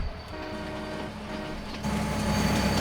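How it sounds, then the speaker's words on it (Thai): A train in Farming Simulator 19 runs slowly through floodwater, giving a continuous dense mechanical rumble and clatter that grows louder partway through, with no talk. "นี่คือรถไฟของเรานะครับผม"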